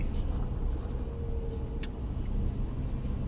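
A car rolls along slowly and steadily on an icy road in a small mountain town, with a low, continuous road rumble and engine hum heard from inside the cabin, with no talking.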